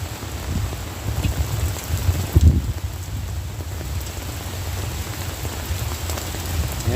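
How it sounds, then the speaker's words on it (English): Steady rain patters on surfaces outdoors in a continuous, even hiss, with a brief louder spatter partway through and no talking. "Rain is a blessing, that's for sure."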